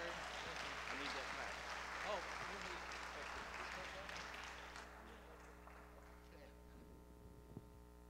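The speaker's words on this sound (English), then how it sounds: "let's give him a good round of applause" Applause from an audience at a gospel concert, steady clapping that fades out over several seconds into a quiet room with a low electrical hum.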